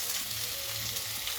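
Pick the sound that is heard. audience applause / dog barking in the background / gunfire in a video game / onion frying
onion frying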